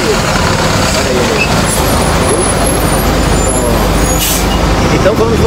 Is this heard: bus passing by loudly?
yes